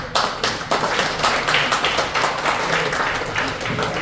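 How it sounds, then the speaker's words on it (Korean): An audience at a political school workshop gives the chairman a big round of applause, loud, dense clapping that starts abruptly and carries on steadily close by. "오늘 박근고 우리 회장님 한 번 더 큰 박수를 좀 부탁드리겠습니다"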